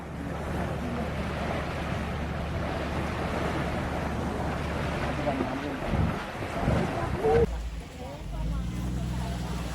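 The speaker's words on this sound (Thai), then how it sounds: "นู่ไงเรือมาแล้ว" A boat near Koh Kham, Sattahip, Thailand, approaching the pier: steady engine and water wash under heavy wind noise, with a brief louder rumble and thumps near the end as it comes in; voices can be heard faintly.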